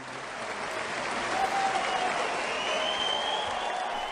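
A crowd applauds after a speech about support for women, a dense, steady clapping that holds at the same level for the whole stretch with no voice over it.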